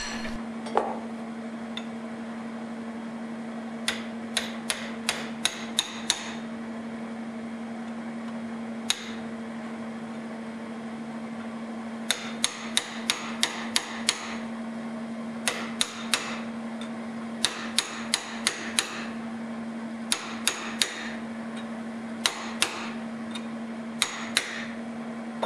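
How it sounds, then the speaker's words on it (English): Sharp metallic hammer strikes on a chisel splitting hot iron held in a vise ring out in quick clusters of several blows, separated by pauses, over a steady low electrical hum. "Clamp the hot cross in your vise and use a chisel to split the end of your cross."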